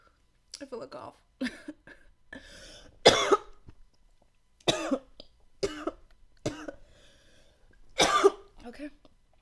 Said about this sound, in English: I feel a cough.